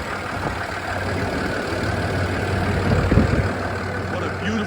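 A 6.7 liter Cummins ISB inline-six turbo diesel idles steadily in a 2020 International MV607 box truck, a low continuous rumble with a faint brief knock midway.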